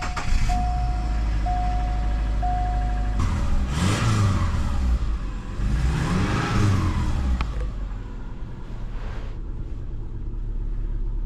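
A donor Subaru car engine idling steadily, then revving twice in rising, falling sweeps before settling back to a low, even idle.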